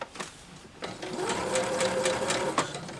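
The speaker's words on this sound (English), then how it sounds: "It's okay to sew off of material. It's not going to hurt your machine." A sewing machine stitches steadily through quilting fabric at close range, its motor hum building after a short pause and running continuously with a faint rhythmic clatter, no talking over it.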